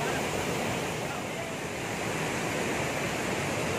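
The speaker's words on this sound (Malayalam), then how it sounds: "ഇടുക്കിയിലെ ഒരു വെള്ളച്ചാട്ടം തൂവൽ വാട്ടർഫാളാണ്" Thooval waterfall in Idukki, a steady broadband roar of falling water filling the whole stretch, loud and continuous with no breaks, heard alone without any voices over it.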